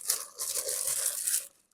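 Packaging crinkles and rustles as chandelier glass pieces are pulled from their box while unpacking an AEULYTIR 54-inch chandelier: a close, continuous burst of crackling paper or plastic lasting over a second, then quiet.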